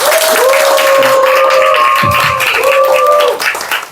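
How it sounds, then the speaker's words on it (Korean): Loud audience applause welcomes a robotics lecturer onto a stage at a Korean education talk, the clapping blending with sustained musical tones for several seconds before breaking up. "큰 박수로 모시겠습니다"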